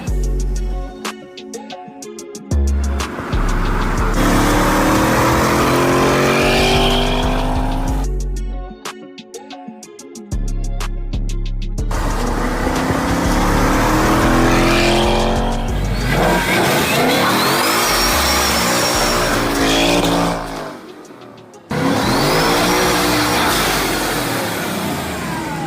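A loud Ford Mustang engine revs hard through repeated bursts, rising and falling as it accelerates and drives past, with brief quiet gaps between pulls and heavy close-up roar throughout.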